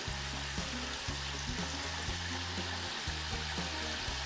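Onion rings sizzle and bubble in hot frying oil, a dense, steady crackling hiss close by with a low rhythmic pulsing hum beneath, no voices.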